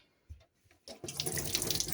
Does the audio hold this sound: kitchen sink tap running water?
yes